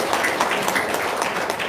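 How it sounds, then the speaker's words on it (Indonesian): Short burst of audience applause at a talk, dense crowd clapping at moderate volume, brief and steady without speech over it. "Tepuk tangan dulu dong untuk Haji Marco."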